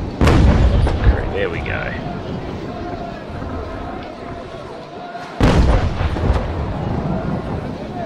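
Wooden sailing ship cannon broadsides in the Naval Action video game: a sharp booming volley at the start, a rolling rumble of shots, then a second loud volley about five seconds in, with someone speaking briefly.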